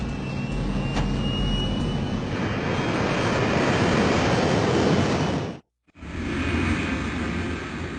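Boeing 737 airliner taking off, a loud sustained jet engine roar that holds steady, cuts out abruptly for a moment, then resumes.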